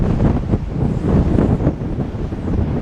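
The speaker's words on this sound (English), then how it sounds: "super windy." Strong wind roars across a seaside promenade on a stormy Sunday morning, a constant heavy buffeting with a faint wash of the sea beneath it and no talking.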